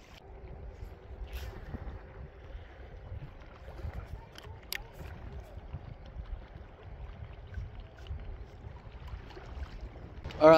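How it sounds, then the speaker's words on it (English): Wind gusts across an open point at a public pond during bass fishing. The low rumble of wind buffeting the microphone is continuous and unsteady, with faint water and small handling noises underneath. "this wind is killing me out here on this point"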